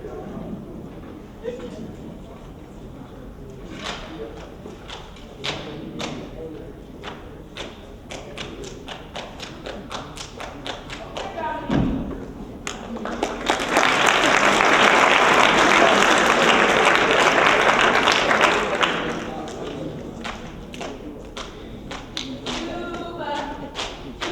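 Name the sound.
Hambone (Juba) dance: rhythmic hand clapping and body slapping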